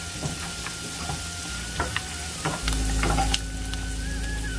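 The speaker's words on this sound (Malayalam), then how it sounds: "അതുവരെ ഒന്ന് വഴറ്റിയെടുക്കാം." Onions for poha sauté in a hot pan, a steady close sizzle and fry with scattered scraping stirs of a spoon, growing briefly louder partway through, no talking.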